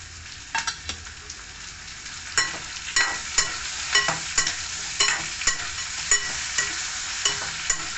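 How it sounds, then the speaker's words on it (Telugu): Tomato pieces fry in a pan for palak paneer, a continuous close sizzle broken by a regular series of scraping strokes as a spoon stirs, growing more rhythmic toward the end, with no talking. "ఇవి కొంచెం వేగేయండి. ఇప్పుడు టమాటా ముక్కలు వేసేసుకుందాము."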